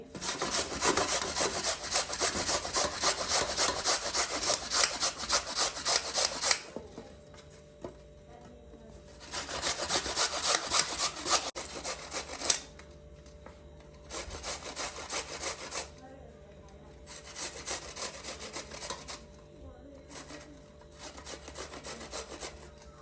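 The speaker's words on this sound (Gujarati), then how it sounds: "ચલો હવે બધા ગાજર છીણી નાખીએ" Carrots are grated by hand on a kitchen grater in rapid rasping strokes that come in long bursts, close and clear, separated by short pauses, with no talking.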